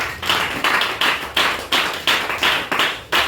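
A church congregation claps in unison, a loud rhythmic run of about a dozen evenly spaced handclaps, each sharp and close, with no talk over it.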